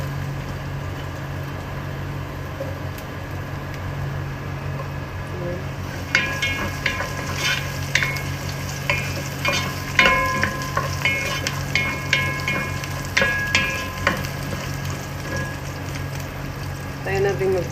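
Ginger sizzles in a hot pan for a Filipino chicken dish, with a steady frying hiss and, from about six seconds on, repeated clinks and scrapes of stirring close by.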